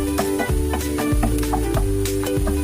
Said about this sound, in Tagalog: Igisa po natin ang bawang.